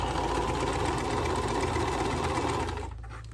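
Sewing machine stitching a quilt block, a loud steady mechanical whir with rapid needle chatter that slows and fades near the end, with no talking.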